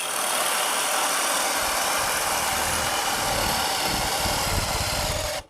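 Milwaukee cordless hammer drill spinning at speed setting 2, a steady, loud, continuous motor whine and buzz held at constant pitch for the whole stretch before stopping abruptly at the end.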